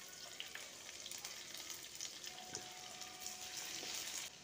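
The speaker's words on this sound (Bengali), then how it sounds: "রসুনটা এইভাবে 2-1 বার নেড়ে হালকা করে ভেজে নিয়ে" Chopped garlic fries softly in white oil in a hot pan, a faint, constant sizzle with light crackles and the occasional scrape of stirring, heard alone.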